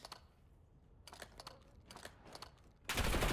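Gunfire in a competitive tactical shooter video game match, heard as a few quick bursts of shots spread across the clip, with a louder, denser blast of noise at the very end.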